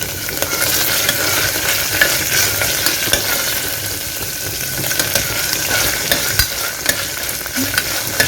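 Ingredients sizzle steadily in a hot pan while being stirred for a quick kichidi, a loud continuous frying hiss with light scraping and no talk.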